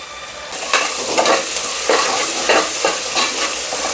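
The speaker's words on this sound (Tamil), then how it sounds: "நல்லா வாசம் வர அளவுக்கு வதக்கிக்கலாம் இஞ்சி பூண்டு." Crushed ginger and garlic sauté with onions in a hot pan for a vegetable biryani, a loud steady sizzle broken by repeated scraping stirs of the spoon, close up with no talking.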